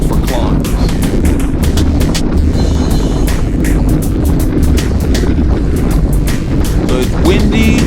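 Wind buffeting a microphone during a group road bike ride, a loud continuous roar with gusty bursts throughout.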